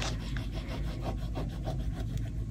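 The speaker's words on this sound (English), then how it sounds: "these are just rub on stickers so you just do this and they transfer into the page" Rub-on transfer stickers are rubbed onto a page of a travel journal with quick, steady scratchy strokes. The close, continuous friction has no talk over it.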